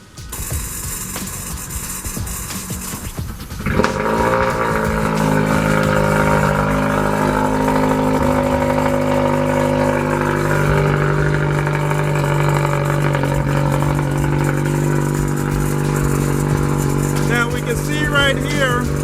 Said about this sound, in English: the cold start seems to be pretty loud